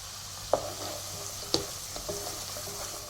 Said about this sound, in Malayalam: എല്ലാം കൂടി ഒന്ന് ചേർത്ത് കൊടുത്തിട്ട് വഴറ്റണം